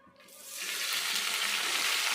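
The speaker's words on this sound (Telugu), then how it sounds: "నేను నువ్వుల నూనె వేసానండి" Sesame oil is poured into a hot pan while a gongura and sesame chutney is being made. After a brief quiet start it rises into a steady, close hissing sizzle.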